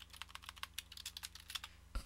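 Someone types on a computer keyboard, a rapid, uneven run of close, crisp key clicks, ending with a couple of heavier taps.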